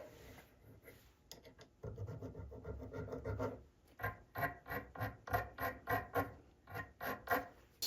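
A guitar nut on an OO blues guitar rubbed with 320-grit sandpaper, close scratchy strokes that start irregular and settle into a steady back-and-forth rhythm of about a dozen rasping passes, with no talking.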